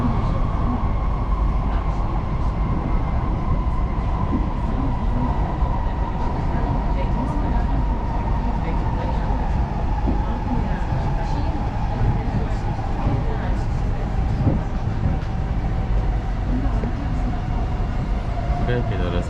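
Interior of a Singapore MRT train heading from Changi Airport toward the city centre, with a loud, steady rumble of wheels on rail and a faint whining tone throughout.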